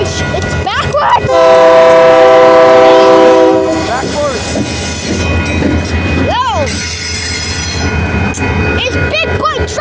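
Union Pacific Big Boy train passing at El Paso: a long loud horn blast, then rolling wheels and squeals, with excited people shouting and whooping nearby.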